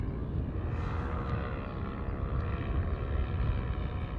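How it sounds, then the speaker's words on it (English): A light aircraft engine idling at an airfield on a windy day, a steady droning rumble with a faint propeller throb, close and continuous with no talk. "Engine sounding good."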